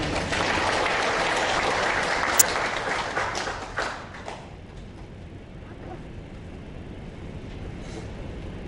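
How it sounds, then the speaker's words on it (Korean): An audience at a Catholic academic symposium applauds to welcome a bishop to the podium, a broad clapping wash for the first few seconds that thins out and fades, leaving quieter room noise. "큰 박수로 맞아주시기 바랍니다"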